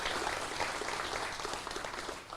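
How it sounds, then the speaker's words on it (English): Steady applause from a crowd, dense clapping sustained throughout at moderate level, with no voices standing out. "So I think big round of applause for Tracy."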